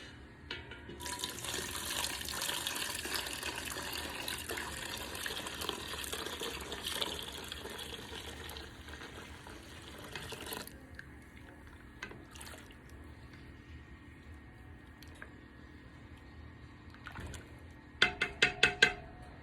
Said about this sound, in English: So all I'm going to do is add the liquid to the oil.